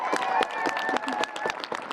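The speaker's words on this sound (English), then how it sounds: "Can I get another applause?" A crowd at a sit-in against gender-based violence in Groningen claps and cheers, with brisk, close applause filling the moment and voices mixed in.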